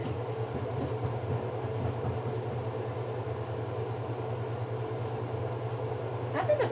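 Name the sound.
rolls frying in hot oil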